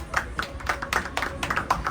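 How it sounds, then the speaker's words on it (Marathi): A group of friends on a picnic in Karjat clapping together: a quick, irregular run of close hand claps for about two seconds, fairly loud, with no talk over it. "सर्वांनी टाळ्या वाजवा त्यासाठी."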